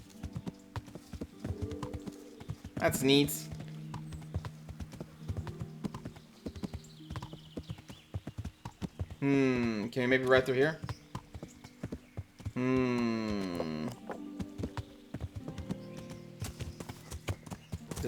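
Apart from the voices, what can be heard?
horse of Alexander the Great in Kingdom Come: Deliverance, video game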